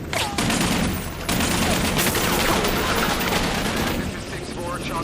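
Dense, loud gunfire erupts in a Black Hawk Down battle scene, with overlapping rifle and machine-gun bursts rattling continuously and shouting voices mixed into the chaos.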